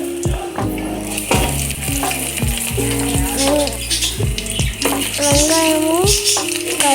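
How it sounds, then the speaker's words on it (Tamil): Black pepper sizzling in hot oil for village-style fish kuzhambu, a busy crackling fry with clattering stirring and utensil knocks throughout, loud and close. "எண்ணெய் ஊற்றிக்கலாம். மிளகு போட்டுக்கலாம்."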